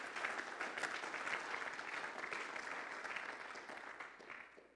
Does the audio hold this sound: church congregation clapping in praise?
yes